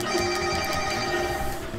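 A phone rings steadily and fairly loudly with a bright electronic tone that pulses in short repeated bursts, heard alone with no talking.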